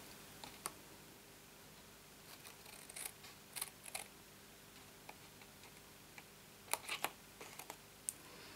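Scissors snip mitre corners into card for a handmade gift box, giving a series of short, close, crisp cuts in small clusters over a quiet room background with no talking.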